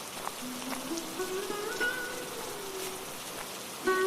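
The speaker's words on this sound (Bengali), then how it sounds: "এখনো তো বৃষ্টি পড়ছে" Rain falls steadily in a continuous soft wash, even and moderately faint, with a few light tonal sounds over it.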